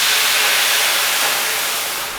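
Water poured into a hot oven drip pan to make steam while baking sourdough bagels, a loud steady hiss that holds for about two seconds and then eases slightly, close and alone.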